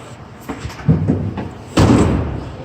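Doors on a 2016 Ford Transit T-150 cargo van with wood-paneled sides are shut: a lighter thump, then a heavier, resonant slam about a second later, both close by and with no speech.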